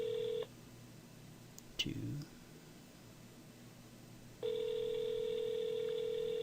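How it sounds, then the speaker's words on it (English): An outgoing telephone call rings back with long steady tones at the start and again near the end, separated by a pause with a brief thump and a few spoken words. "I just want to see if it's going to answer. We'll give it 3 more rings."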